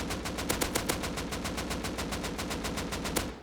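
An AK rifle fires in the video game Rust, a steady, fast burst of about twenty evenly spaced, loud, sharp automatic shots with no talk over it.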